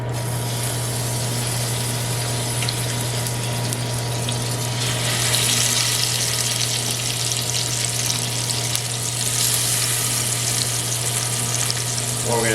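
Seasoned pork shanks sizzle steadily in a hot pan over medium heat, a continuous close frying hiss that grows a little louder partway through, with no one speaking.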